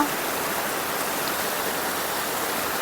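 Steady, dense rushing water with no breaks, a broadband roar heard close by from the top of a waterfall near Maredumilli, Andhra Pradesh.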